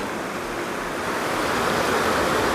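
Steady rushing water of a creek flowing beside a hiking trail in the Smoky Mountains, a dense continuous hiss that swells slightly louder partway through, with no voices.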